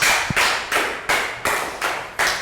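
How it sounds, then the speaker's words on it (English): A primary school class gives a pupil a round of applause, clapping in about six sharp, evenly spaced bursts, close and loud. "round of applause for Nadia"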